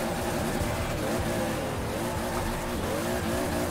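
A Toyota Supra drifting in Forza Horizon 4, its tires breaking loose in continuous squeal over a loud revving engine, steady and close throughout.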